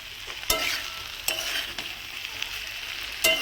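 Rohu fish head stir-fried with Malabar spinach in a pan, a continuous sizzle broken by sharp spatula scrapes and clacks at irregular intervals, close and clear.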